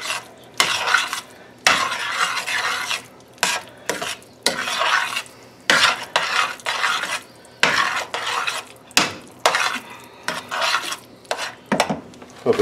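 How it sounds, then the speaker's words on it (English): Taco filling with a heap of added cheese is stirred in a pan, producing repeated bursts of scraping and clattering utensil strokes separated by short pauses, with a faint sizzle beneath. "Give this a good mix."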